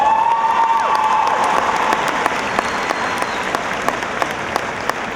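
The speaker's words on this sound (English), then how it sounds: "Give yourselves a round of applause." Graduation audience at a college commencement applauding and cheering, a steady wash of many hands from a large crowd filling the hall, with a few sharper claps standing out and a brief whistle-like tone early on.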